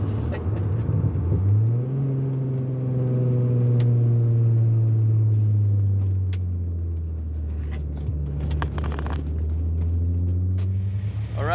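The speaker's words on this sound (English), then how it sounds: "Just push the clutch in so they don't hear the loud exhaust." A Volkswagen Golf MK3 VR6 with a loud exhaust rumbles close by, its pitch rising sharply as it revs, then settling into a deep steady drone that slowly sags as the car coasts, with faint clicks and knocks.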